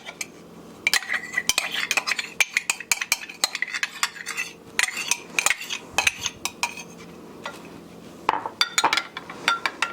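Whisk or spoon beating a fresh farm egg with heavy cream in a bowl for blueberry lemon scones, a busy run of quick clinking taps and scraping strokes against the bowl, close and steady with brief pauses.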